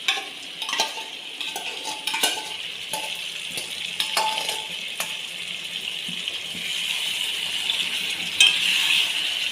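Chicken korma being stirred in a pan after yogurt is added, a steady sizzle of frying under repeated scraping and clinks of a spoon against the pan, close and continuous with no talking.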